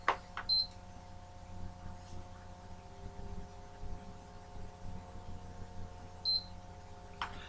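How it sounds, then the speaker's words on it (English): Two short, high electronic beeps from a PlayStation 3 power button, one early and one near the end, faint, over a quiet low hum with a few soft clicks. "press and hold the on switch on your PlayStation until you hear a second beep"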